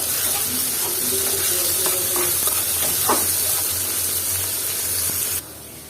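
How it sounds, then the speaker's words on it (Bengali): Dried rupchanda (pomfret) fish and onions frying in a pan with salt, a steady close sizzle broken by scraping stirs and a few clinks, stopping abruptly near the end. "এটাকে আমি এখন সুন্দর করে নাড়াচাড়া দিব হালকা একটু ব্রাউনি করে নিব"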